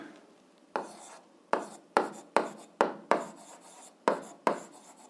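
Pen or chalk strokes scratch out a handwritten algebra solution in short, sharp bursts, about nine distinct scribbles with brief pauses between them, close and quiet.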